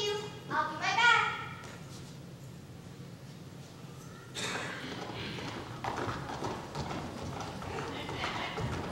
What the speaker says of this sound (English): The royal servants have fetched you our fastest horse.